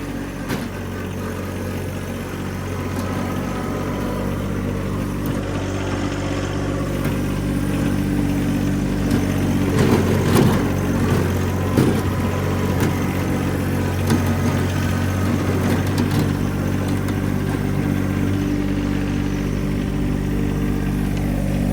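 A John Deere 1025R tractor's diesel engine runs steadily at idle, a loud, continuous low throb with a slight swell in the middle, no voices.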